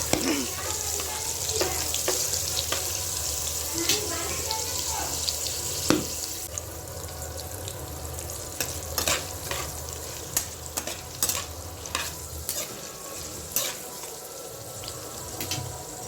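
Oil sizzles steadily as whole cumin seeds fry in a pan, with occasional stirring clinks and scrapes, close up, no talking.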